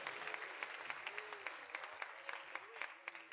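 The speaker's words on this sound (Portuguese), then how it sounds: "dê uma linda salva de palmas a Jesus" A church audience gives a round of applause for Jesus, with crisp, distinct claps from a modest crowd that come in an uneven but lively rhythm, close and bright, with murmured voices faintly underneath.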